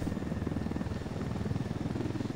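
Droning aircraft engine with a steady, slightly pulsing rotor-like rumble from a shooting video game, continuous and fairly loud throughout with no voices.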